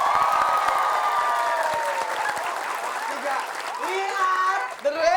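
A studio comedy show audience claps loudly for a performing group, dense sustained applause with some cheering, close and full, while voices and music rise over it toward the end before it cuts off.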